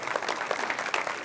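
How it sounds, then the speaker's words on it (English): A brief, dense burst of audience applause for a scholarship recipient, steady, close clapping from many hands throughout. "Please give them a big round of applause."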